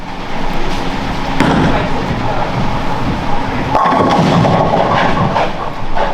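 At a competitive bowling match on a pro-am lane, a ball thrown hard and straight at a spare rumbles loudly down the lane and crashes into the pins with a broad clattering impact, all close and continuous.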